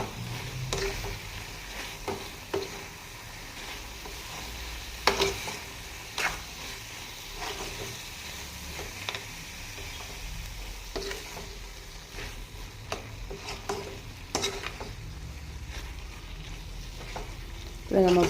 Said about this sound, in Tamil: நம்ம போட்ட பொடிகளோட பச்சை ஸ்மெல் மாறுறதுக்காக கொஞ்சம் நேரம் வதக்கி விடுங்க